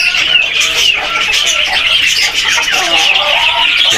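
Many chickens cluck and chatter together close by, a continuous busy flock sound with no voices.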